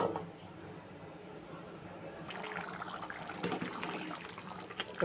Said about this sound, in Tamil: தண்ணி நல்லா கொதிச்சு ரைஸை நல்லா தண்ணியை உரிய ஆரம்பிச்சிருச்சு